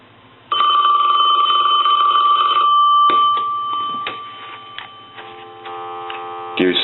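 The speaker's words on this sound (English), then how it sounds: "I want to go ahead and plug the telephone in, and we'll ring it." Original Princess telephone, repaired and fitted with an amplified handset, ringing its bell loudly and close for about two seconds, then a shorter ring amid clicks and a steady hum.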